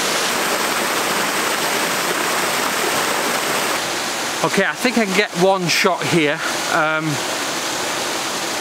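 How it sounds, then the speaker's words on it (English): Waterfall pouring in from both sides at the top of a scenic view, a steady broadband rush that fills the scene throughout, with someone talking briefly over it near the end. "you got one waterfall at the top of the frame coming in on both sides"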